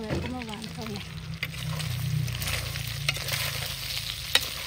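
Beef chicharrones fry in a pan with a steady close sizzle and occasional stirring clatters, while a voice talks briefly at the start.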